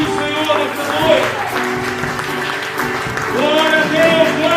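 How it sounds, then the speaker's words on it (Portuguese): Congregation applauding during a church service, with musical tones and a voice sounding over and between the steady clapping. "Nós podemos aplaudir o Senhor nesta noite."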